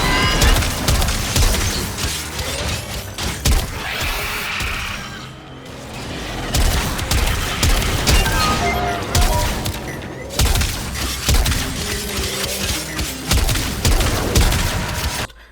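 Gunfire in the Warframe video game during the Jackal boss fight, with rapid loud bursts of shots, crashes and booms in dense volleys and brief lulls between them.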